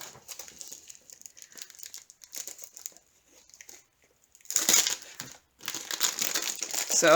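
Plastic wrapping on a diamond painting kit crinkles and crackles as it is opened, coming in close, uneven bursts, louder in the second half, with short pauses between.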